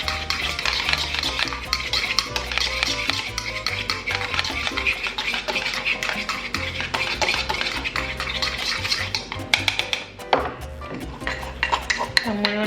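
Mayonnaise and ketchup are stirred together in a bowl, a steady run of close, rapid scraping and clinking of a utensil against the bowl, with no voices.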